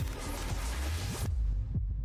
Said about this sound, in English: Heartbeat restored.